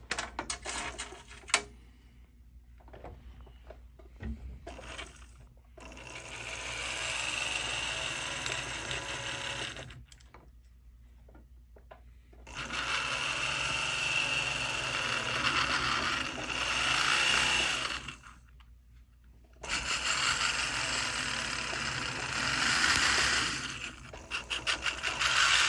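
A jeweler's rotary burr grinds into a custom ring, cutting to a set depth: a steady, close whirring grind in three long runs with brief quiet pauses between them.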